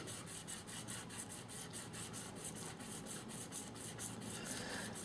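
Guitar frets are rubbed with 2000 grit abrasive paper, a faint, fast, even back-and-forth scratching of about four strokes per second, close up and continuous with no talking.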